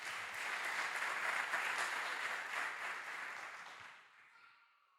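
Church congregation clapping for the Lord during a sermon, a fairly distant, even wash of many hands that holds steady and then fades away to near silence over the last second.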